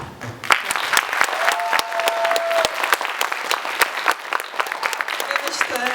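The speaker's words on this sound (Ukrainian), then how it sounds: "давайте оплески, адже це авторська поезія, яка заслуговує, заслуговує на оплески" Audience applause following an original poetry reading at a student pageant, steady clapping from a crowd in a hall with a few sharper individual claps standing out.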